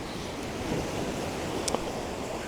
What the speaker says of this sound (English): the waves are coming up on the beach with a slope from bottom left